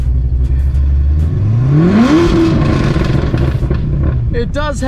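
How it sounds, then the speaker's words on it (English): Supercar with an aggressive LMR burble tune revs hard from a low idle, the engine note sweeping up steeply and falling back, close and loud, with some crackle toward the end. "If you rev this one."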